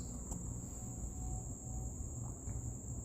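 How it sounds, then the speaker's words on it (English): Crickets chirp outdoors in a steady high, continuous trill, faint and distant over a low background hum, with no voices. "listening to the faint sound of the crickets and everything outside"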